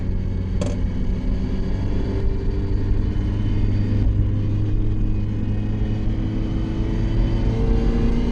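A Mazda MX-5 engine pulls steadily uphill in third gear on a Florida road, a continuous mid-pitched drone heard from inside the car, with one brief click near the start and no talking.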